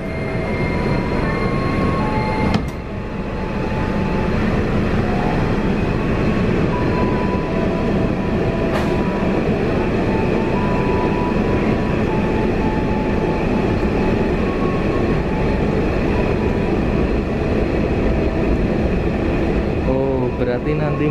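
A KfW i9000 electric commuter line train departs and runs between Srowot and Purwosari, with a loud, continuous interior rumble and steady rolling noise throughout and a brief clunk early on.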